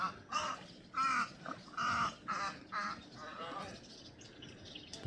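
Several loud, harsh calls from an unidentified bird along a marsh trail, repeated in a quick series of rough squawks, fairly close, with ambient outdoor noise and a quieter stretch at the end.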